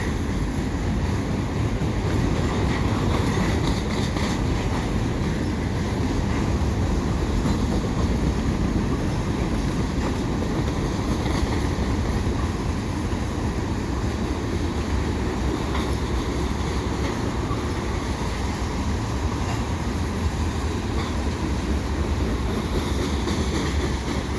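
A CP eastbound mixed freight train passes beneath the Sources Boulevard overpass in Montreal, its loud, steady rumble and wheel roar holding constant and close throughout with no voices.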